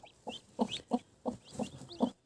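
A broody hen clucking in a steady series of soft, rhythmic calls, close by, with faint high peeping from hatching chicks in between.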